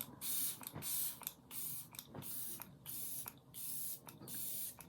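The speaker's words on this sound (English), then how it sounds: "Then I spray this." Repeated short bursts of setting spray misted onto a face during a glam makeup routine, about seven hissing puffs in steady rhythm, close and crisp with brief pauses between them.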